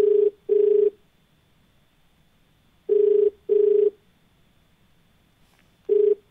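A telephone on a call-in TV program sounds while the host dials the next caller: five clear, loud electronic tone bursts, the first two and middle two paired, with a quiet gap between, and no voices.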